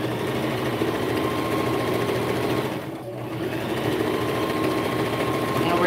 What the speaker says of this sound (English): Make sure to backstitch when you get to the end.